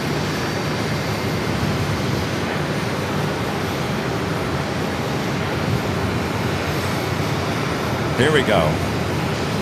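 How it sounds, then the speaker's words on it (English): Boeing 737 airliner arriving from Chicago, a steady low engine rumble at moderate distance that fills the background, with a brief voice near the end. "737 coming in from Chicago here."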